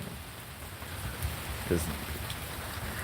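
Steady rain falls outdoors during Tropical Storm Elsa in Florida, a constant hiss of drops on surfaces, with a brief spoken word and faint movement sounds under it.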